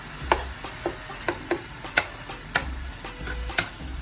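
Minced chicken being stirred and broken up in a hot pan, with a steady low sizzle beneath roughly a dozen sharp, irregular scrapes and taps of the utensil against the pan, close up.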